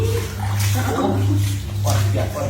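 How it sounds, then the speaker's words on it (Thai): Water splashing and pouring as a father bathes his young child, a steady wash of sloshing with a low hum beneath, while voices talk over it. "พ่อก็เลยอาบน้ำ"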